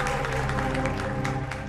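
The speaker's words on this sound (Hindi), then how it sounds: "क्या बात है, तालियां बनती है इस बात पे" Audience applause at a charity event, a steady wash of many hands clapping over sustained background music, moderately loud.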